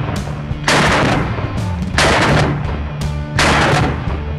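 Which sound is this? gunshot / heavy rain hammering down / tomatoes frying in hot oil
gunshot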